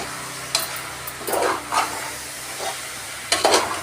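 Ginger garlic paste frying in a pan for chicken kulambu (chicken curry), with a steady sizzling hiss broken by a few sharper spatters and stirring scrapes, close and fairly loud, no talk.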